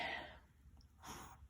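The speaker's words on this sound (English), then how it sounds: "I just sneezed." A single quiet sneeze indoors, a short breathy burst followed by a faint exhale.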